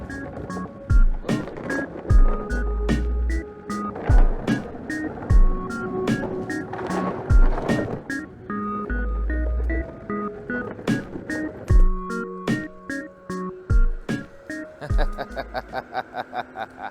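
A Meepo Flow electric skateboard climbs a little hill, its wheels rolling steadily with a rhythmic clack over pavement seams and a whining motor, heard up close while a rider talks and laughs over it.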